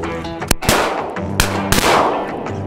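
Shotgun blasts during a mallard duck hunt in Washington, several sharp, loud reports in quick succession with brief echoing tails outdoors.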